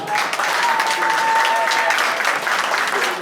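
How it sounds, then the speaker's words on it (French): Guests at a wedding ceremony applaud the couple: a loud, close, unbroken stretch of many hands clapping, with a faint sustained tone running through it. "Applaudissez pour eux."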